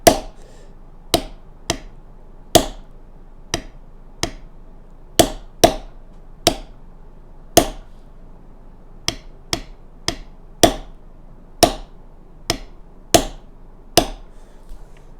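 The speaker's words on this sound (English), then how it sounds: "how hard you're hitting with your mallet" Sharp, distinct taps of a mallet striking a leather beveling tool, about eighteen strikes over fifteen seconds at an uneven pace with varying force, close and clear with no talk.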